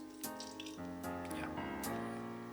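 Water running and splashing while mechanical keyboard keycaps are rinsed clean of soap, a steady close tap stream with irregular splashes and clinks of plastic caps.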